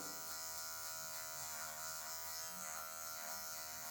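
An electric hair clipper buzzes steadily and close while cutting a mid fade in afro hair, its motor hum constant with slight wavering as it moves through the hair.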